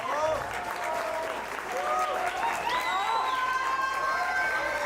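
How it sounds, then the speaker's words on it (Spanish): A crowd at a F*ckup Nights talk event welcomes a chef to the stage with sustained applause, mixed with cheering and whistles that rise and fall above the clapping, while voices murmur underneath. "un fuerte aplauso a Aquiles Chávez"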